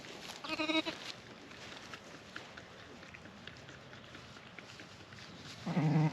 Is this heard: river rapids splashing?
no